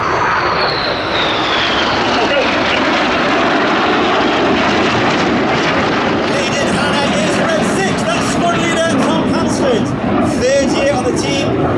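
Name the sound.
Red Arrows jet aircraft passing low over airfield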